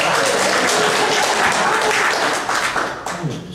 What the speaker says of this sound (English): Everybody shake your head yes and applaud like that's the greatest thing.